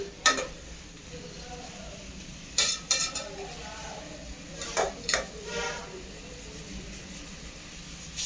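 Ingredients for a tamarind curry with chickpeas and peanuts sautéing in a pan, a soft sizzle under a few sharp scrapes and clinks of a ladle stirring against metal, close by, with no one speaking.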